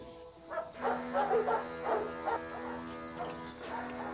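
Dogs bark and yip in a scene from The Terminator film, several short barks and whimpers over a few seconds, moderately loud over a background score.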